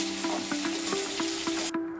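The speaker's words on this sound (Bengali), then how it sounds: "একটু ভেজে নিচ্ছি।" Prawns fry in hot oil with a steady, close sizzle and a faint regular ticking, before the sound suddenly thins near the end.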